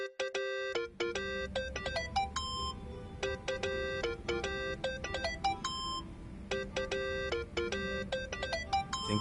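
A mobile phone rings inside the video game Yakuza: Like a Dragon, a bright, repeating electronic ringtone of short melodic tone bursts over low, steady background ambience, clear and close.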